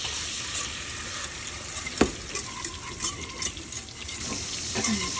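Butter melts in a pan for potato gravy, hissing in a continuous close-up sizzle with occasional soft pops and a spoon knock; no voices.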